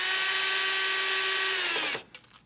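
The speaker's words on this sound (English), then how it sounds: "make sure the drill's going the right way" Power drill driving screws while fitting headlights and fog lights to a 1995 Harley-Davidson Road King: a steady, loud whine holds for nearly two seconds, then winds down and stops, followed by a few faint clicks.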